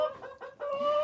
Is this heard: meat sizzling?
no